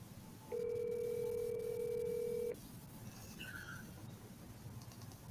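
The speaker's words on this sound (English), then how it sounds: "Somebody's butt dialing somebody." A phone tone from an accidental pocket dial: one steady electronic tone holds for about two seconds, loud over a low background hum, then stops, followed by faint scattered beeps.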